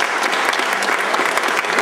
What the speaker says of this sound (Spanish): un aplauso para Vicente